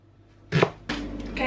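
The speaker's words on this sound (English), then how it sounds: "Okay, onions are cut." A knife chopping onions on a cutting board, two or three sharp close chops in quick succession.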